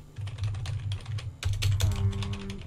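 Computer keyboard keys are pressed in quick bursts of clicks while someone plays the PC game Chrome: SpecForce, the tapping close and busy, with a game tone humming beneath it.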